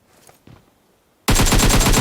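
Automatic gunfire in the mobile battle-royale game PUBG Mobile: after a quiet moment with a couple of faint taps, a loud dense burst of rapid shots erupts and keeps going to the end.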